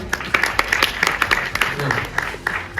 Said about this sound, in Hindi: जोरदार तालियां बजाएं इनके